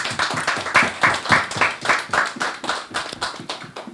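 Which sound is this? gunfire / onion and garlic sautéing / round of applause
round of applause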